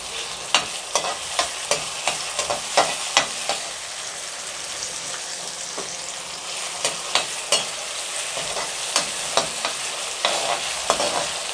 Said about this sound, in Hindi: थोड़ी सी मटर डाल देते हैं